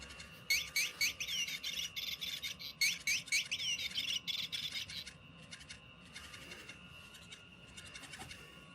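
A toy bird gives rapid, high chirping trills in bursts, loud at first and then fainter and more scattered, over a steady low background hum.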